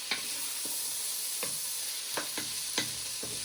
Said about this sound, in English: Then you give them a little bit of a stir so they get nicely coated into all your vegetables